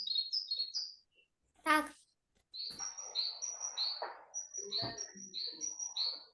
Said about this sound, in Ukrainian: Чуєте, як синичка співає?